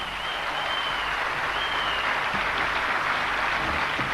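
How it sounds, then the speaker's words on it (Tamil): An audience applauds steadily, a dense, even wash of many hands clapping at moderate distance for the full stretch, with no talk over it. "அவங்களுக்கு ஒரு பெரிய பாராட்டு கொடுத்துருங்க"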